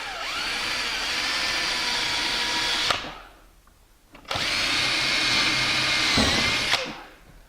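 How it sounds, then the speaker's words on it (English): A power drill whines steadily at close range, driving a screw at an angle into a wooden board, stops, then starts again for a second long run before cutting off. "we're going to drill a hole in it instead of nailing it"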